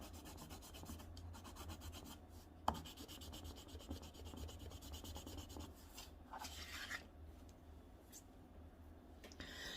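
A white colored pencil rubbing and scratching across paper while adding sparkle highlights to a drawn landscape: soft, close, faint strokes in short repeated bursts with a light tap partway through.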